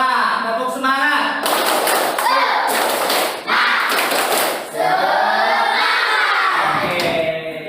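Schoolchildren in a classroom loudly chant a 'tepuk semangat' spirit clap, rhythmic group shouting punctuated by sharp claps and thuds, several short bursts in a row close by.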